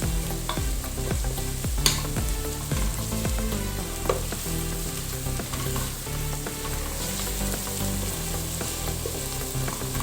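Garlic and ginger fry in a pan for a kofta meatball curry, giving a steady close sizzle broken by scraping stirs and occasional sharp pops, with no talking.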